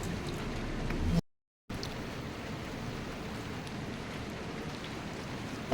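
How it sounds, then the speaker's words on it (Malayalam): Light rain falls steadily, a soft, even hiss that fills the whole stretch, broken only by a short dropout near the start. "മഴ പെയ്തുകൊണ്ടിരിക്കുകയാണ് കേട്ടോ"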